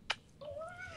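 A Ragdoll cat gives a single drawn-out, rising meow, close and fairly soft, preceded by a brief sharp click.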